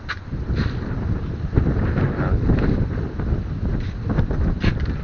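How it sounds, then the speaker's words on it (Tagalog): Strong, gusty wind roars and buffets steadily across the whole stretch, loud and close with rumbling low-end noise and no talking, on a Philippine coast during spearfishing. "Napakalakas ng hangin."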